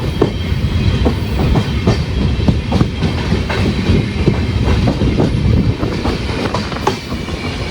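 Kannur Express, a KSR Bengaluru–Kannur service now running with LHB coaches, rolls past with a steady, loud rumble and a rhythmic clickety-clack of wheels over rail joints throughout, with no voices.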